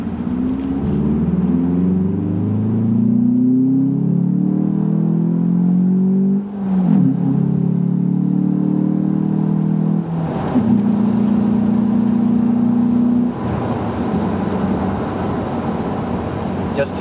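Car engine revving at about three-quarter throttle during Hurricane Sandy, with the defrost running: a steady droning roar that rises and falls in pitch over several long pulls, loud and close from inside the cabin.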